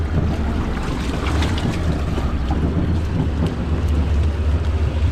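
A Talon side-by-side on 38s with its front diff locked climbs a hill through a muddy pond; its engine makes a steady, loud, low rumble with wind-like broadband noise throughout.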